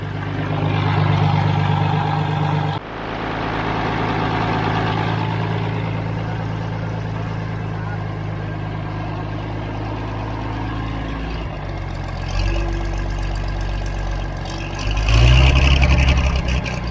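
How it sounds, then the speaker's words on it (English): A Galion T400 road grader's engine idles loud and steady, a low rumbling drone that drops briefly near the start, then shifts and swells toward the end as it is shut down with a hydraulic leak up front. "we're happy that the engine runs"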